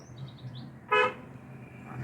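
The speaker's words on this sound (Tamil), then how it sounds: "ஹாரன் ஒரு முறை" A single short car horn honk, sharp and fairly loud, over steady road and engine rumble.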